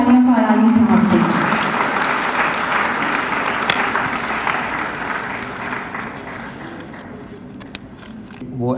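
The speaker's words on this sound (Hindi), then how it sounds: "बहुत सारी तालियां फरहानी साहब की" At a tribute gathering, an audience applauds Farani in a full, sustained round of clapping that follows a brief spoken voice and slowly thins out.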